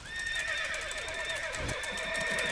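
Horses neighing and whinnying in the online game TERA Online, several high shrill calls overlapping in quick succession, loud and steady across the moment with no talk.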